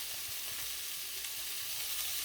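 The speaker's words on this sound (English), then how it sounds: "just going to sit here and let it cook now" Fajita filling sizzles and fries steadily in a hot pan for quesadillas, a continuous close, dense crackle with no talking over it.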